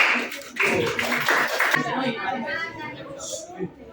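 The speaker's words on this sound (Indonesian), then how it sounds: "tepuk tangan dulu untuk kelompok 5." A classroom of students claps briefly for a presenting group, a short patter of hands lasting under two seconds before voices and chatter take over.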